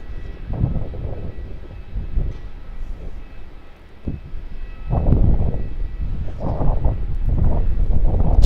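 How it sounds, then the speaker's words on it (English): A Jetstar Airbus A320 airliner passes overhead after departing Avalon, a rumbling, breathy engine roar that swells toward the end, mixed with gusty wind on the microphone near an airport. "Jetstar A320 right overhead from Avalon headed to Sydney"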